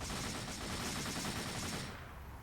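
Bursts of MG13 machine gun and rifle fire from a World At War mod battle between Hungary and France rattle in a dense, loud stream before fading out at the end.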